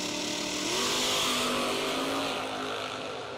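A 1962 Chevy II and an Oldsmobile launch in a doorslammer drag race, a loud, continuous engine roar that swells and holds steady across the run with no break.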